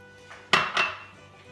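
A small plate holding olive oil is set down on a kitchen counter, making two quick close ceramic knocks in an otherwise quiet room.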